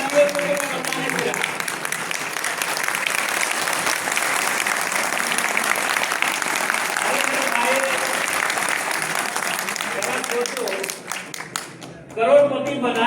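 Steady audience applause at a motivational speech in a Lucknow hotel hall, continuous and dense for about ten seconds before thinning out, with a voice speaking over the tail end.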